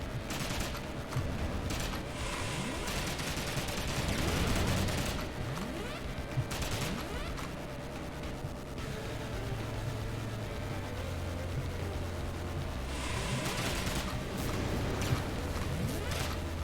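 Dense, continuous rapid gunfire from guns fired out of a van in the video game Horace, loud sustained bursts layered over a droning engine-like rumble.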